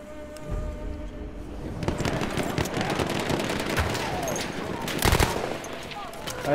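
Thompson submachine gun fire in Battlefield 1, rattling automatic bursts amid surrounding battlefield gunfire and explosions, with a voice talking over parts of the chaotic mix.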